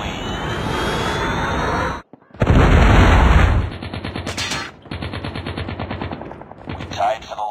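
Call of Duty mobile battle with a heavy Predator missile blast rumbling in, followed by bursts of rapid automatic gunfire and scattered shots, loud and close throughout.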